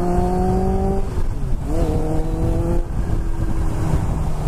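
A Kawasaki Ninja H2 motorcycle engine roars loud and close at speed, a steady high drone that dips and climbs again as it shifts, over strong wind rush.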